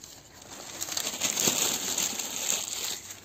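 Newspaper sheets being crumpled by hand into loose balls for lighting a campfire, a steady dry crinkling and rustling that swells in the middle and continues alone with no talk.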